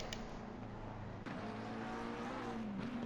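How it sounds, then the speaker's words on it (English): A McLaren race car slides around the Nordschleife in a racing game, its engine holding a steady, loud droning tone with a shift in pitch partway through and no talk over it. "With a McLaren sliding around."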